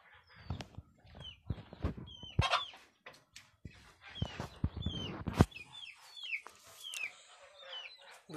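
Chickens clucking near day-old hatched chicks, with repeated close clucks and high, thin peeping calls scattered irregularly throughout, no talking.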